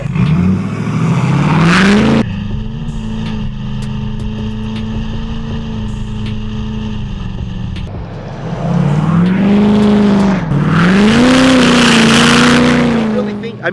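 A loud Ford truck with a straight pipe exhaust on a back road rumbles and revs near by, dropping to a steady drone while cruising, then roaring louder again as it passes, with no talk over it.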